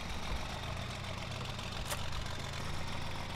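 A tractor engine in Farming Simulator 2013, an old 4955 model, idles with a steady low rumble and a brief sharper burst partway through, fairly faint and heard alone.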